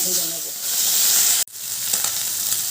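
Small mourala fish rubbed with salt and turmeric sizzle in hot oil in a pan, a loud, close frying hiss that cuts out briefly and then resumes.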